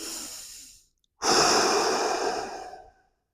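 Close, steady breathing during a hip adduction mobility exercise: one breath fades out, a brief silence follows, then a longer, louder airy exhale trails off gradually, with no talking.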